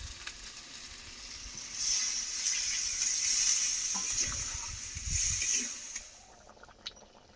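Spice-rinse water poured into a pan of browned goat meat being cooked for curry, setting off a loud, steady sizzle and hiss that swells mid-way, carries some stirring clatter and then settles, with no talking.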